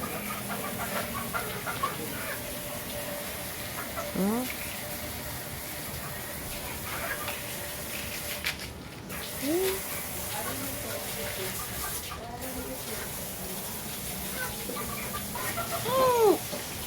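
Chickens cluck and crow intermittently in an open farmyard, with wind noise throughout and a person briefly speaking.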